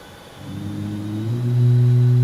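An iFly 737 MAX 8 engine spools up in Microsoft Flight Simulator 2024, a low rumble rising into a steady, strengthening tonal hum heard from outside the aircraft.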